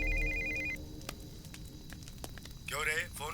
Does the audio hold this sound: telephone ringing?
yes